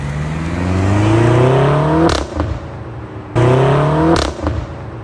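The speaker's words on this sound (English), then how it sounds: "This car doesn't really burble, it just gives off some nice gurgles and pops on upshift." BMW X5M (F85) exhaust climbs through two hard accelerations, each cut by an upshift with brief gurgling pops and crackles before the engine note rises again; loud and close, no talking.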